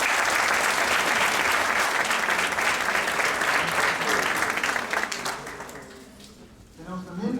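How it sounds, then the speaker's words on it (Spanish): Sustained audience applause at an academic law event, loud and dense for most of the span, then thinning and fading near the end as a voice begins to speak. "Por favor, un aplauso."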